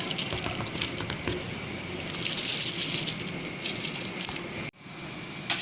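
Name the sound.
adding rice to boiling water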